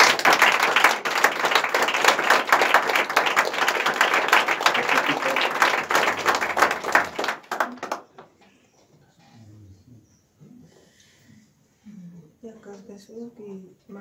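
A church congregation breaks into loud, sustained applause and cheering for Jesus, then the clapping dies away and quieter talk follows.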